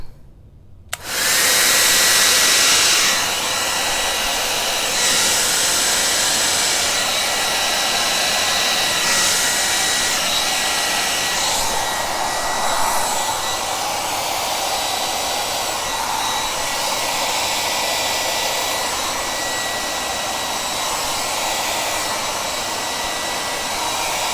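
Steady, loud rush of blown air, like a hair dryer, sweeping across acrylic paint in a Dutch pour fluid painting, starting abruptly and holding continuously with slight swells, no talking.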